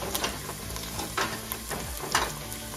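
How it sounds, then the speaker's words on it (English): Celery sautés alone in a pan for caponata, a low, fairly quiet sizzle with a few faint scrapes of the utensil at close range. "we're gonna saute our celery first"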